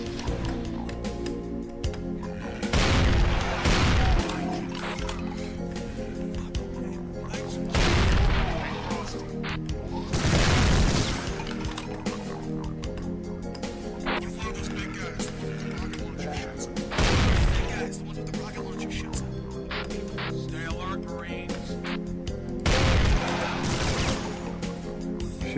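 Gunfire and booming blasts in the video game Brutal Doom, Maps of Chaos Overkill map 13, loud explosive bursts recurring every few seconds over constant game music and a talking player.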